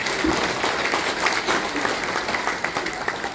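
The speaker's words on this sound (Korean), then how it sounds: "제 말에 동의해주면 박수 한번 부탁드립니다." A year-end party audience gives a steady burst of clapping that fills the room, holding at an even level throughout at moderate volume without any speech over it.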